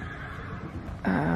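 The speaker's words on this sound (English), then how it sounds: "Now the horses in the trailer are whinnying" A short, high whinny from a horse in a trailer rises near the end over a low background rumble.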